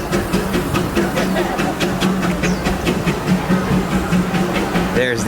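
A Disneyland steam train, the EP Ripley, chugs past with rhythmic puffing and hissing over rumbling wheels, while people talk nearby.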